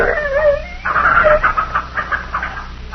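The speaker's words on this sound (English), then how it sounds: "I never thought you had it in you to shoot even a dog, Mr. Buchanan." An injured, poisoned dog whimpering in pain in a radio crime drama, a series of high, wavering whines and yelps, close and fairly loud, pulsing in short bursts.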